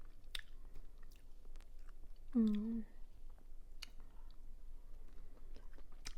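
Unripe rose apple fruit is chewed close to the mic, soft wet crunching and mouth sounds in a quiet room, with a brief murmured hum partway through.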